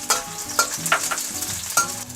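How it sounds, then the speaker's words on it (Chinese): Shallots sizzling in hot oil in a wok, a crisp crackling fry with soft bursts as they are stirred, close and fairly quiet with no talking. "好，油温差不多了，我们加入红葱头先爆香"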